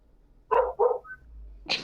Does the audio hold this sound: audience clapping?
no